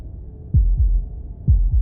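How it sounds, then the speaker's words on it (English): A heartbeat from the video game Slay the Princess thumps in two pairs of deep, soft lub-dub beats, close and alone over a low hum. "That was the sound of a heartbeat"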